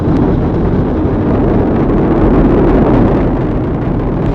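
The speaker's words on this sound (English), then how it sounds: "All 4 RS-25 engines on the core stage and 2 solid rocket boosters now propelling the vehicle" A deep, continuous rumbling roar as the four RS-25 engines and two solid rocket boosters of NASA's Artemis I Moon rocket lift off, loud and steady with heavy low-end power throughout.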